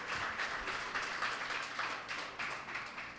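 A congregation at a Sunday church worship service claps hard and steadily, a dense, loud wash of many hands that swells in waves and runs through the whole moment with almost no talking.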